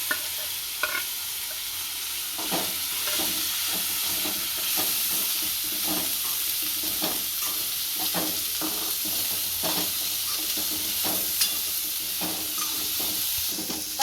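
Asafoetida and spiny gourd pieces sizzle in hot oil, a steady close frying hiss broken by frequent scraping stirs and clinks of a spoon against the pan throughout.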